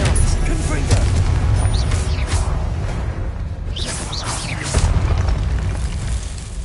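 Confringo fire spell blasting in Hogwarts Legacy, a series of booming bursts and whooshes with heavy low rumble, loud and close, amid ongoing combat effects.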